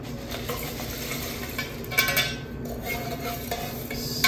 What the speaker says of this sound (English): Stir, stir, stir.